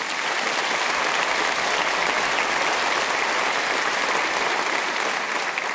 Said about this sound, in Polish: Oklaski dla niego.